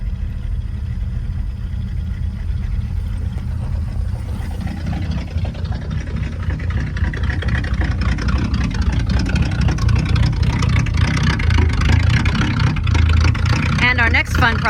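A 1959 Cadillac engine idles with a worn power steering pump, giving a steady, loud low rumble with a rougher growl that swells slightly toward the end, while a voice talks over it.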